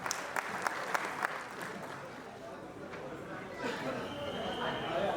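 An audience at the Dudhsagar Dairy 65th annual general meeting applauds to welcome the managing director, moderate scattered clapping heard from some distance that fades into general hall murmur.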